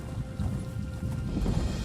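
Horse hooves galloping in The Elder Scrolls Online, a steady rapid clip-clop of a ridden mount close by, running continuously without talk over it.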